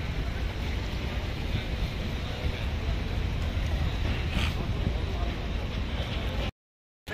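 Water churned by a small ship passing on Dubai Creek, rocking moored boats, comes through as a steady broadband wash of waves and wind noise, loud and continuous before a brief dropout near the end.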